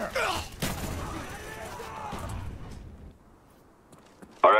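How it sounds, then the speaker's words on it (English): A napalm strike lands in a video game, a burst of booming thuds and crackling rumble that fades away, with a voice talking over the start and a sharp noise at the end. "Friendly napalm strike on the way."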